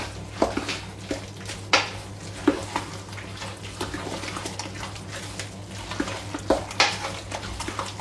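A seasoned potato mixture is stirred in a bowl, and the utensil clinks and scrapes against it in irregular strokes, close and fairly loud, with no voices.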